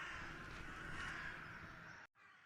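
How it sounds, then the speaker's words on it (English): Crows caw in a continuous, harsh stretch inside the PC horror game The Last Door, fairly faint, with a brief cut to silence before the sound resumes. "I hear birds."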